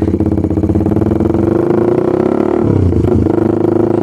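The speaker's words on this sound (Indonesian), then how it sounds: "Oke, sekarang gue nyalain motornya. Nggak ada starter elektriknya, cuman ada kickstarter nih," A stock-spec motorcycle with only a kickstarter and no electric starter fires up and runs close and loud, a rapid steady engine putter that rises briefly and settles near the end.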